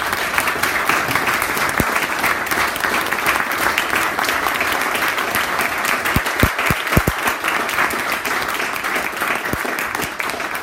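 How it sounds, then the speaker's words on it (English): Loud, sustained applause from a debate audience for two state assembly candidates, thick continuous clapping with a few sharp individual claps standing out near the front, no speech on top. "Let's give them a round of applause."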